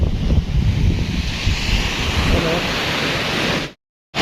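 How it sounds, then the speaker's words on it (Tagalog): Ocean waves wash onto the shore at a beach in San Jose, Camarines Sur, a broad continuous rushing surf mixed with wind buffeting the microphone before it cuts off abruptly. "Mga alon."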